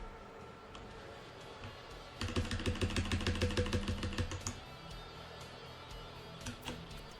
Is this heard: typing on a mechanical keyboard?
yes